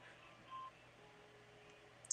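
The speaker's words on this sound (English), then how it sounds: "Or get the city prosecutor on the phone." A telephone being dialed while placing a call: a brief DTMF keypad tone, then quiet line hiss, and a sharper tone at the end, faint and close with no talk.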